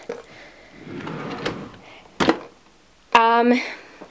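A makeup drawer slides open with a quick rattling scrape, after soft handling noises and a muffled bump.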